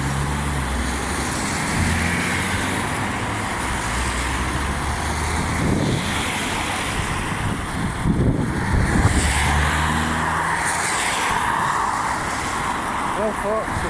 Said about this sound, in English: Why is the traffic not moving?